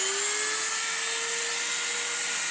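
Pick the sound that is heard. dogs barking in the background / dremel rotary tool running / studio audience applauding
dremel rotary tool running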